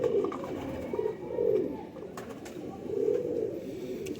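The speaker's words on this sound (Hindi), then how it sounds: "ये मेरा तकरीबन 9 साल पुराना कबूतर है" A nine-year-old breeder pigeon coos nearby in low, throaty, rolling calls, repeated a few times against faint background noise.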